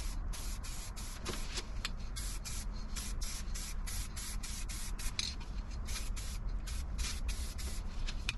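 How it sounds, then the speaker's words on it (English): A nearly empty spray paint can sprays in a rapid run of short, sputtering hisses, each burst cut off before the next, close and fairly quiet, with no one talking. "Didn't get a very good coat on that paint because it was almost out, that one."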